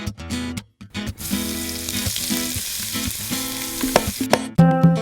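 Ginger garlic paste sizzles loudly in a pan at the start of a fish curry, a steady broadband frying hiss with brief breaks and stirring clatter near the end, no voices.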